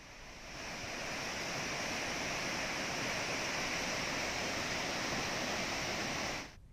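Heavy water released through 22 gates of the Narayanpur dam into the Krishna river roars as a dense, steady rushing noise, loud and unbroken for several seconds before cutting off abruptly.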